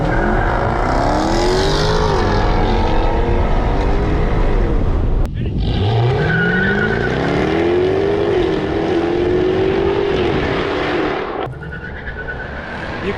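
A Jaguar F-Type R launches hard from a standstill, its engine rising steeply through the gears before a gearshift cuts in, then climbing again. It is loud and nearby, with wind buffeting and a faint tire squeal as the car pulls away.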